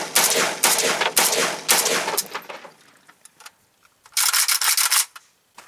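An AK-47 rifle fired with a Steel Control magazine lets off a string of loud, sharp shots at a steady pace, goes quiet briefly, then fires a quicker closing burst. No one talks.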